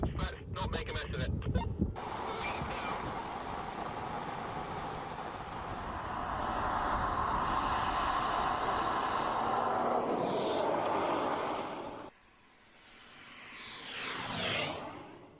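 A jet-powered RC car running on a track, a loud steady turbine roar with rising whine that builds and holds, then cuts sharply before a brief swell returns; voices speak over the start.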